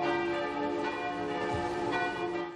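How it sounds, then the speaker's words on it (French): Church bells in Morbihan, France ring out loud and sustained, overlapping tones humming continuously with fresh strikes every second or so. "les cloches retentissent"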